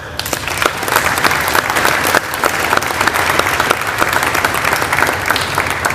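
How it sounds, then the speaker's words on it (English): Applause fills a hall at a naval symposium at the National Museum of the U.S. Navy, many hands clapping steadily at moderate loudness with a faint crowd murmur underneath. "please join me in a round of applause for the National Museum of the U.S. Navy for hosting this symposium today"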